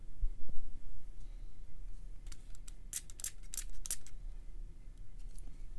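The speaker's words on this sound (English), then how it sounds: "Now I'm spraying the area underneath" Several quick hissing bursts of a cheap spray bottle misting water onto watercolor paper, clustered in the middle of the stretch, close and crisp over a low background hum.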